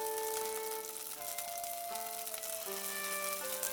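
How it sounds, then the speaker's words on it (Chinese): Cornstarch-dusted tofu pieces pan-frying in a little oil, giving a steady, even sizzle close by for the whole stretch, with soft background music and no talk. "煎1分钟就可以翻面了。"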